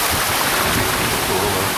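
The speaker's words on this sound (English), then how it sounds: "Very pretty waterfall there." Steady broadband rush of falling water, constant and fairly loud, like a waterfall close by with no break in the roar.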